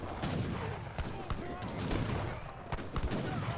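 Mortar fire hits infantry in a video game battle, a rapid crackle of gunfire and bursts mixed under a commentator's voice.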